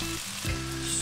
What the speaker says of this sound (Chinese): 热锅倒油，葱姜蒜爆香，加入一勺黄豆酱，倒入花椒